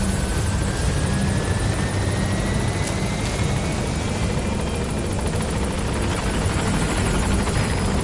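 The Pequod helicopter from the Metal Gear Solid V: The Phantom Pain video game approaches the landing zone, its rotors thudding in a steady, loud, continuous drone with no voices.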